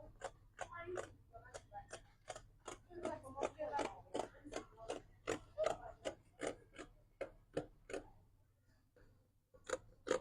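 Scissors cutting a corset gown pattern, with a close run of crisp, evenly spaced snips in a steady rhythm, mostly alone apart from faint background hum.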